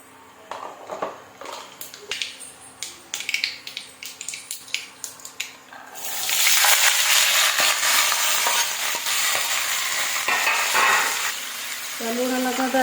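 Whole spices tempering in hot mustard oil, with light stirring and clinks at first, then a sudden loud, steady sizzle once they hit the oil that holds close and bright to the end.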